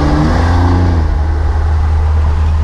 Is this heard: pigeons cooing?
no